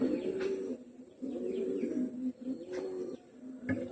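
Saharanpuri pigeons coo in repeated low, throaty phrases, close and fairly soft, with faint chirps from other birds in the background.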